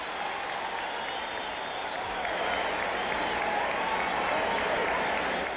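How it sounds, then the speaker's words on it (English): A large boxing crowd roars and claps for the fighter Quarry in a dense, sustained wall of applause and cheering that swells slightly toward the end. "What a cheer for Quarry"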